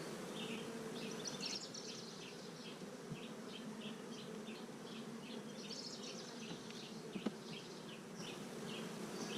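Honey bees buzz steadily during a beehive inspection. The hum is dense and continuous, with individual bees droning close by for the whole stretch and no talking.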